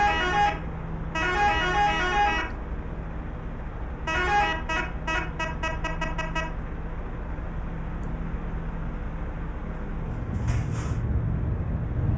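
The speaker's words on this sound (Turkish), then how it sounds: "Böyle bir de tatlı bir kornası var ha." A truck horn in Euro Truck Simulator 2 honks in several bursts, a couple of long blasts then a rapid series of short toots, over a steady engine rumble.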